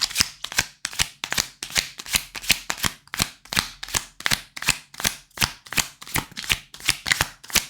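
Tarot cards being shuffled in quick, regular riffles, roughly two to three crisp bursts per second, close and clear with no voices.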